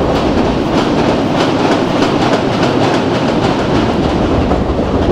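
Train rolling at speed in Indian Train Simulator, the Kerala Sampark Kranti Express at night, with a steady loud rumble and continuous rhythmic clatter of wheels on track throughout, no voices.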